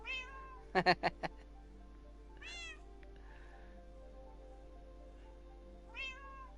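A cat meows several times close by, drawn-out calls at the start, middle and end, with a quick clatter of taps early on.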